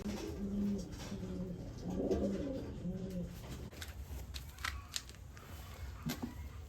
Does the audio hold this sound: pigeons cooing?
yes